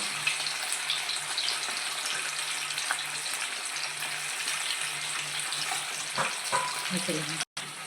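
Chicken pakodi pieces fry in hot oil with a loud, continuous bubbling sizzle that stays steady, broken near the end by a few stirring knocks and a brief cut to silence.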